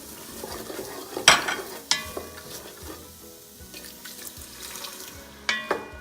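Diced onion and minced garlic in a hot pot, with water poured in and stirred, giving soft sizzling and splashing, a few sharp clinks of a utensil on the pot, and a steady low background hum.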